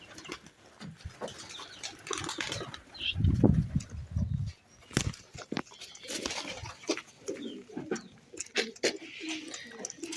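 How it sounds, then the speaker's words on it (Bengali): A semi-coloured pigeon coos in soft, low bursts close by, with the clearest cooing a little before the midpoint, scattered among intermittent clicks, wing rustles and shuffling movement. "এই যে দেখুন সেমি কালারের একটি কবুতর"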